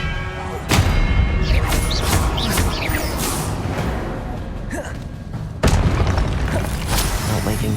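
In Hogwarts Legacy, Confringo spell blasts go off as heavy booms, with one early burst and another loud one later, over a dense wash of combat effects and game noise.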